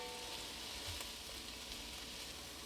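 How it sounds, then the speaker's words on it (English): Mushrooms cooking down in a soup pot give off a faint, steady sizzle, a soft continuous hiss of frying with no talking over it. "we are just going to let the mushrooms cook down for about 3 to 4 minutes as well"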